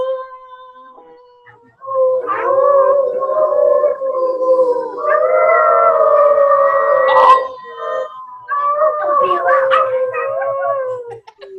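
A person imitates a dog howling, drawing out long wavering howls and whimpers in three sustained phrases, loud and close, with short gaps between them.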